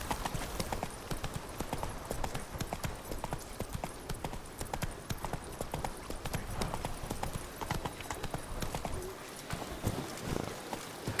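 Roach, the horse in The Witcher 3: Wild Hunt, trots with a continuous, fast clip-clop of hooves, dense and steady throughout, heard close at moderate level with no speech over it.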